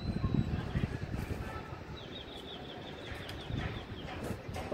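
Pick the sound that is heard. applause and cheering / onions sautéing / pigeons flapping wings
pigeons flapping wings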